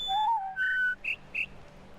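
Bird whistles in The Witness video game ring out as a short sequence of distinct clear notes, a few gliding tones followed by two higher chirps, crisp against a quiet background.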